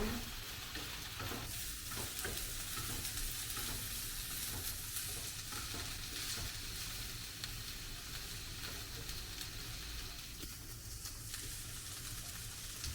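Rice being stirred in a pan with a wooden spoon, a continuous soft sizzle with faint scraping, steady and close with no talk.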